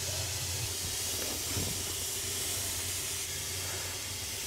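A steam car burner vaporizing gasoline gives a steady, even hiss, close and continuous, with a low rumble underneath and no voices.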